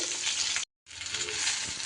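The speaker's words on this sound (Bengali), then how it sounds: "তেল গরম হলে এবার আমি বেগুনগুলো ভেজে নেব।" Eggplant pieces frying in hot oil give a dense, close crackling sizzle, cut by a brief silent gap before the frying resumes just as strongly.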